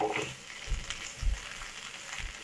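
Fried moringa drumstick stems go into mustard masala with turmeric in hot oil and are stirred, a soft sizzle broken by a few low scraping stirs, with no talk.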